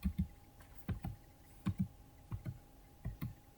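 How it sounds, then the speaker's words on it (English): Fingers tap a computer keyboard in short clusters of soft, close keystrokes with brief pauses between, quiet and alone without talk. "So just I am typing Reliance"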